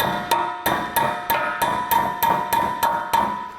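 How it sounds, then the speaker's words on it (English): Hammer striking a metal tab of an EcoHitch hidden trailer hitch receiver on a 2016 Volkswagen, bending it into place: eleven sharp ringing metallic blows in a steady, even rhythm, close and alone. "if you have a hammer, you can just bend that in."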